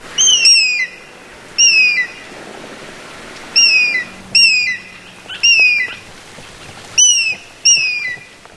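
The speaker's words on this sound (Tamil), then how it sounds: "கழுகு." An eagle giving sharp, high, whistled calls in short bursts of two or three notes, repeated several times with pauses between, fairly loud and close over a quiet background.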